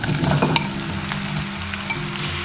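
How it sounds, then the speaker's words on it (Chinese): White radish stir-fried in a wok with scallion, ginger and garlic, a steady close sizzle throughout, broken by a few metallic clinks and scrapes of the spatula early on. "炒香后下入白萝卜。"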